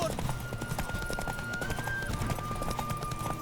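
Horse hooves clip-clop steadily in The Witcher 3, with a brief whinny, over a continuous game soundtrack and ambient sounds.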